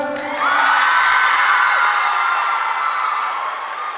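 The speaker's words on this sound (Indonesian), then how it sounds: "Tepuk tangan buat Nursing Department." A crowd at a school drama competition's closing ceremony erupts in loud, sustained cheering and high shouting for the Nursing Department, swelling after a brief start and holding steady without speech.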